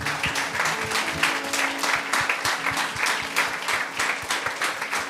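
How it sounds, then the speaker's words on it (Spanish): Congregation in a church clapping together, a loud, rhythmic steady beat of many hands in time with faint voices underneath. "Demos aplausos al Señor."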